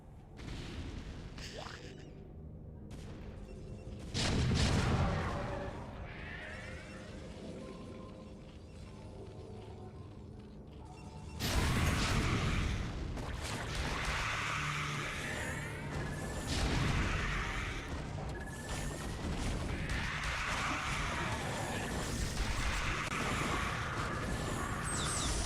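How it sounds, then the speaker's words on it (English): A Nidus Canal explodes in StarCraft: Brood War amid busy battle noise, with heavy booming blasts and crashing bursts layered over ongoing combat sounds and a steady background din. "Nidus Canal exploding."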